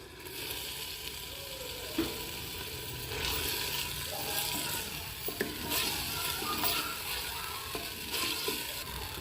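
Taro (arvi) pieces stirred and fried in a pan for a dhaba-style arvi masala, giving a steady sizzle with scraping and clattering spoon strokes throughout, no talking.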